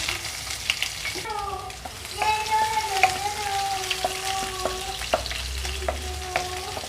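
Onions sizzle and crackle in hot oil with mustard seeds, urad dal, chana dal and cumin, a steady close frying hiss broken by scattered pops and a few bright clinks of a utensil against the pan.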